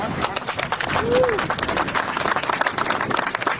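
Outdoor crowd applauding city councillors at a Pride flag raising, a lively spell of mixed clapping with a single whistle and crowd voices murmuring underneath.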